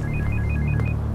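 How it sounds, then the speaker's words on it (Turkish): A telephone rings in a Turkish TV drama scene, giving a rapid warbling electronic ring pattern that repeats several times over a low, steady background tone. "Kimin telefonu lan o?"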